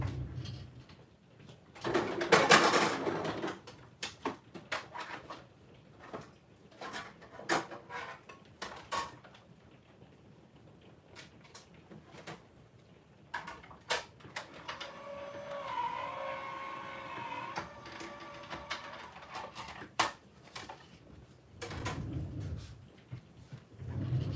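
A manual die-cutting machine cranking a baby card through: irregular clicks, clacks and rolling mechanical grinding over about twenty seconds, with a steadier whirring stretch midway and louder thuds near the start and end.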